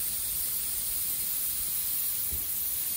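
Compressed air from a compressor hisses continuously through a QAT test kit, a loud, steady, broadband rush with no talk.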